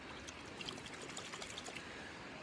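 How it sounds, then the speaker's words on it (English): Water runs over milking equipment as it is rinsed, a faint, even splashing and trickling stream that holds steady throughout, heard alone with no talking. "I rinse it off with water"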